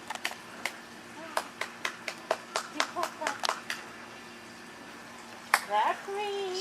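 A person claps in a loose rhythm, about a dozen sharp hand claps close by, followed by a brief louder clatter and some rustling near the end.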